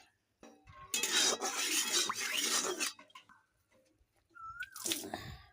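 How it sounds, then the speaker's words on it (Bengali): A wok rinsed with water in a home kitchen: bursts of splashing and sloshing water with scraping, separated by quiet gaps, close and moderately loud, ending with another short rush of water. "কড়াইটা একটু জল দিয়ে ধুয়ে দিচ্ছি।"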